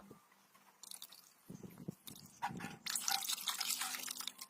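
Fabric softener liquid stirred into clean water, giving soft drips, splashes and sloshing that build louder toward the end, close and alone with no talk.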